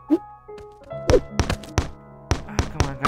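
Scrap Garden PC gameplay with a robot shooting a basket: a series of hollow, thunking game impacts and bounces in quick irregular succession, over a soft electronic musical background.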